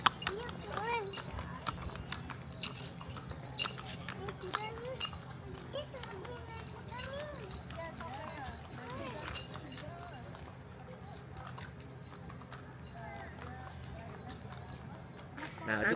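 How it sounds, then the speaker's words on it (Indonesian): Horse hooves clip-clop steadily along a residential complex street as a rented horse is ridden, with a child and adults chatting throughout and street noise in the background. "Nah, itu kuda."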